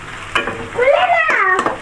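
Chicken pieces dropped into a hot pan and frying, a short bright sizzle with a stir after a couple of quick knocks, close and fairly loud.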